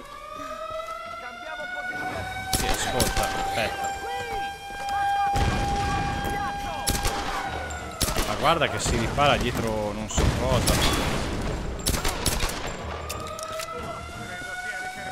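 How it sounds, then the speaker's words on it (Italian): Wailing siren in the Tomb Raider video game, a loud rising and falling tone running steadily under gunfire bursts, game effects and someone talking in Italian. "Ah, è la sirena."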